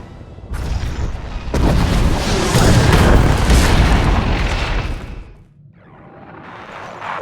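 A massive explosion from an Imperial bombing run in Star Wars: The Old Republic booms with a deep rumbling blast and debris roar that swells, then fades before a lower rumble returns.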